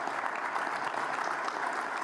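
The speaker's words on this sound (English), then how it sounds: "You can clap for that." An audience at the annual AMAC airport business meeting breaks into steady, dense applause that holds at an even level for the whole two seconds, with no one speaking over it.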